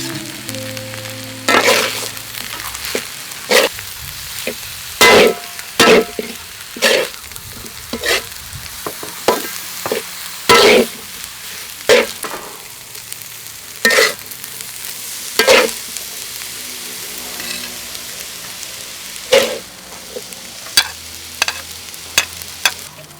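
Rice and broccoli stir-fry in a hot pan, a steady sizzle broken by repeated sharp scraping and clanking strokes of a spatula at uneven intervals, close and clear with no talk.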